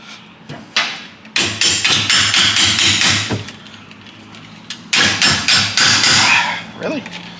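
Hammer blows ring out during installation of the rear end in a 1955 Oldsmobile, with two loud bursts of rapid, evenly spaced metallic strikes close by, separated by a pause with lighter taps.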